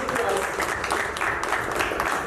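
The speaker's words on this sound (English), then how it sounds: "That comes with a loud round of applause." A crowd claps in a steady burst of applause that holds throughout, with voices mixed in among the clapping, at a film press conference in Delhi.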